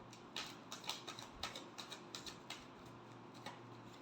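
A tarot deck shuffled in a steady run of soft, regular card taps and flicks, faint and close over a low background hum.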